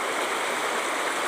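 Floodwater rushes steadily over a tea garden in Assam, a loud, unbroken stream-like roar of flowing water with no speech.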